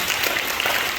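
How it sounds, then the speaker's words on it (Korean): A church congregation at a Sunday service claps to welcome visiting families, a brief burst of dense, steady applause with no voices over it. "박수로 환영해 주시면 감사하겠습니다"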